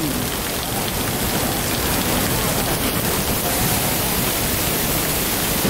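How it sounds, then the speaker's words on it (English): Bali waterfall crashing down nearby, a loud, dense and steady hiss of falling water that fills the whole stretch without pause or talk. "These waterfalls are really starting to impress me."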